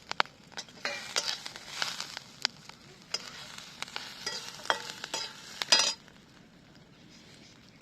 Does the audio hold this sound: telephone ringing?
no